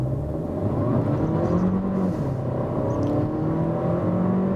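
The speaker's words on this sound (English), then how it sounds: "I like the way that the engine sounds to me in that mode" A Skoda Kamiq with the 1.5 TSI petrol engine accelerating, a steady, moderately loud engine drone rising gradually in pitch as it pulls, heard from inside the car with no talking.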